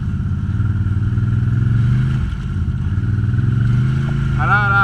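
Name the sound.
ATV engine driving in reverse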